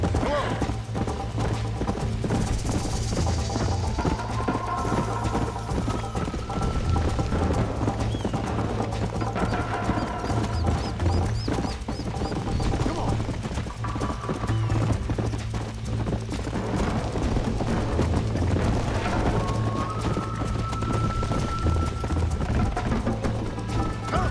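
Horse hooves clip-clop steadily in the Western video game Red Dead Redemption, with occasional whinnies and a low steady music bed under a speaking voice.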